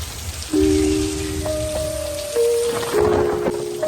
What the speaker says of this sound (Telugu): ఇప్పుడైతే వర్షం వస్తున్నది మస్తు వర్షం